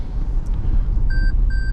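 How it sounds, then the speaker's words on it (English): Two steady electronic warning beeps from the Toyota Safety Sense driver-assist system, each about a quarter second long, sound over the low rumble of a Toyota 4Runner SR5 driving. "That is the Toyota Safety Sense beeping at me."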